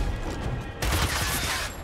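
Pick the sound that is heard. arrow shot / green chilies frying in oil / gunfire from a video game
gunfire from a video game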